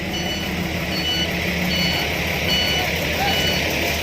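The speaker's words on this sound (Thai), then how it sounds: "รถ หกล้อบรรทุกมัน ไอยเข้ามาแล้ว" A six-wheel truck loaded with cassava arrives with a loud, steady engine rumble and a continuous wash of noise, with reversing beeps heard close by throughout.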